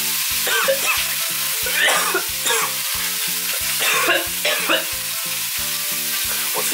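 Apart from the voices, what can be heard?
tomahawk steak sizzling as it is dropped into pan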